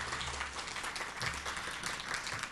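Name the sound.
applause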